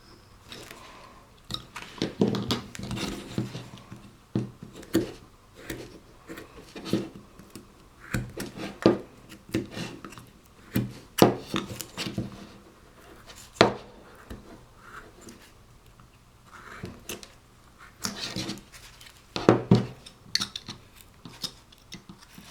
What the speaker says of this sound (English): We can do a slice cut where we start one way and you're running your blade along the edge of that cut.